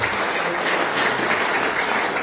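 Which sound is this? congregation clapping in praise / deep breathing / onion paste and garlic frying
congregation clapping in praise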